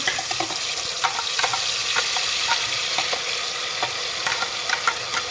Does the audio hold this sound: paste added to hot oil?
yes